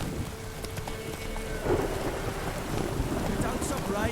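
Rain and thunder in the video game The Witcher 3: a steady wash of rainfall with a low distant rumble of thunder swelling beneath it, continuous throughout.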